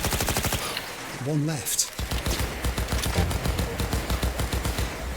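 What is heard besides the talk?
gunfire from the video game Cyberpunk 2077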